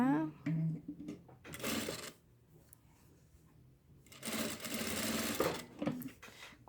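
A sewing machine sews a 3D face mask in short bursts of rapid stitching separated by pauses, close by, while someone talks between and over the runs.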